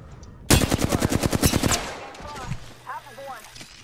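Rapid automatic gunfire in a multiplayer shooter video game, a loud burst of about ten close shots in quick succession, then quieter game sounds and faint electronic chirps.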